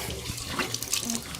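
Water runs steadily from a foot-controlled tap during handwashing, a continuous close splashing hiss with no talking.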